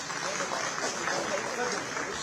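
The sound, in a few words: loud applause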